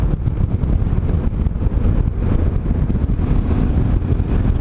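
Strong wind blows outdoors and buffets the microphone in a loud, continuous, gusting roar that never lets up, with no voices.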